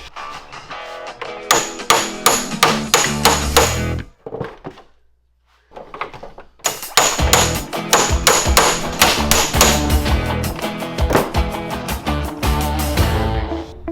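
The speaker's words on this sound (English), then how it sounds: "Let me use an impact hammer." Rapid, loud metallic strikes of an impact hammer working on a stuck part of a Hyundai Genesis, hammering in quick bursts with a short pause before resuming.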